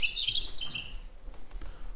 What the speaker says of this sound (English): Oh, house sparrows.